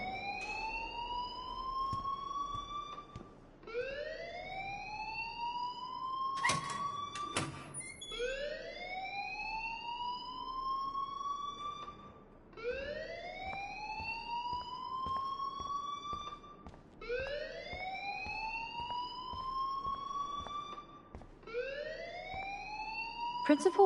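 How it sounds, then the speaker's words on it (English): Alarm in the video game Life Is Strange: a rising siren-like wail repeating about every five seconds, steady and moderately loud, with a voice speaking over part of it. "please turn off that alarm since that's your job."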